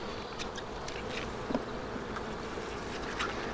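A steady, dense insect buzz of many honey bees droning together around a hive, continuous and fairly close, with no voices.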